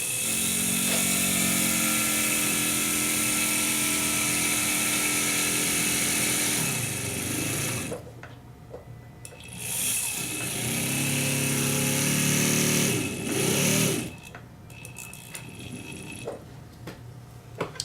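A high-speed jeweller's handpiece runs with a 45-degree burr, cutting a seat for a diamond. It whines steadily, dips in pitch as it bites, pauses, then spins up and down in short runs.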